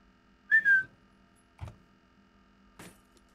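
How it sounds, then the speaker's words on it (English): A player whistles inside the horror video game Backroom Society: one short rising whistle, followed by two faint thuds in a quiet, humming space. "So if I whistle, it scares him."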